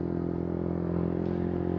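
A 2020 Yamaha YZF R125 motorcycle engine idles steadily nearby, a continuous low droning hum with a slight clattering edge that holds even in loudness throughout, with no voices.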